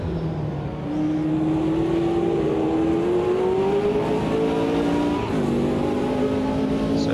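A Lotus race car in Automobilista 2 drones with a loud, steady engine note, pitch rising slowly as it accelerates, with a short dip and recovery near the end, and no talk over it.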